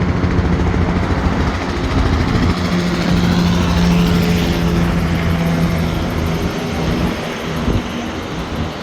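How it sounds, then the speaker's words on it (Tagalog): A helicopter flies near the Brooklyn Bridge in New York, a steady loud rotor-and-engine drone with city and wind noise, holding close and constant for the whole stretch with no talk. "Ayan guys, oh, bumalik yung helicopter."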